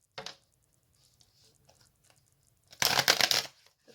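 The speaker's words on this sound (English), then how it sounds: "I'm going to shuffle maybe one more time here" Tarot cards riffled in a brief shuffle near the start, then a louder, denser burst of shuffling about three quarters through, with quiet handling in between and no talking.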